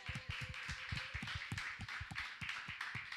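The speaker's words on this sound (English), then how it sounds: "another round of applause for our moderator." Audience claps for the moderator of a live panel discussion, a sustained wash of many hands with crisp overlapping strikes throughout, even in level and free of speech.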